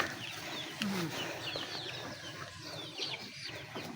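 Chickens clucking and calling at close range, with a busy outdoor background and occasional faint voices mixed in.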